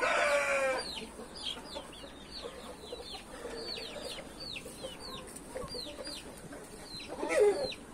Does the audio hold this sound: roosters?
yes